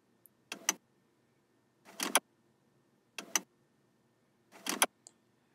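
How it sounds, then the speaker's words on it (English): Sampled car unlocking noises: four short, separate clicking-and-chirping bursts spaced about a second or more apart, clear and alone against near silence. "a mix of a bunch of different car noises of someone unlocking their car"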